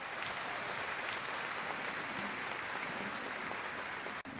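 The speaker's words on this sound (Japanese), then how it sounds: "今一度大きな拍手をお願いいたします。" Steady audience applause at a Japanese speaking event, a dense, even wash of clapping that holds for the whole stretch at moderate distance with no voices over it.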